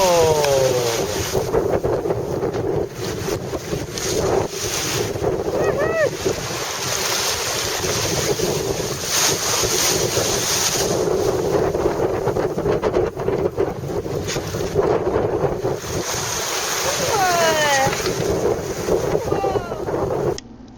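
A sailboat surfs Atlantic waves in strong wind. Rushing water and surf roar steadily under heavy wind buffeting on the microphone, and a few brief voices cut through.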